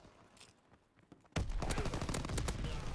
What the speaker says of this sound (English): now that dude has a light machine gun